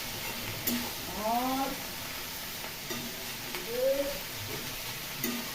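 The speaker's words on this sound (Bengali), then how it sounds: "এই বাঁধাকপিগুলো চাপিয়ে দিলাম, দিয়ে নাড়াচাড়া করে নিই" Cabbage being stirred as it cooks dry in a pan with no water added: a quiet, continuous sizzle with soft scraping, and faint voice-like sounds rising briefly in the background.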